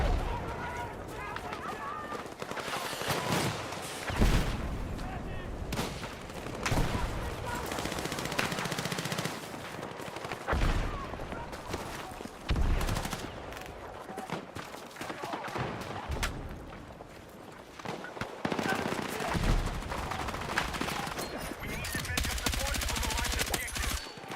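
Gunfire in the Battlefield 6 video game, with repeated shots and bursts, including sniper fire, ringing out over a busy battlefield mix of explosions and movement, loud and fairly continuous throughout.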